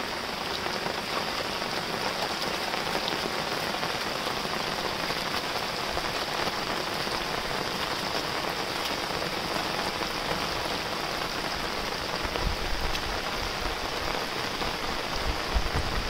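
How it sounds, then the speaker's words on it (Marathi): Heavy rain pours down in a dense, unbroken hiss, drops drumming on a surface throughout, with a brief low rumble near the end. "आणि एवढा भरपूर पाऊस पडतोय।"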